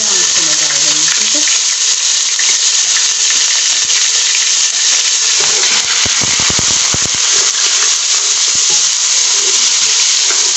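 Finely chopped onions sauté in a pan for kari pakora, giving a steady broadband sizzle throughout, with a few brief stirring clatters around the middle.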